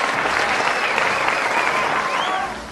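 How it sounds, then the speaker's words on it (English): Warm applause rises for kindergarten graduates at a commencement ceremony, a thick wash of clapping that stays loud for a couple of seconds and then tapers off, with a few whistles mixed in. "they all deserve our warmest applause and congratulations"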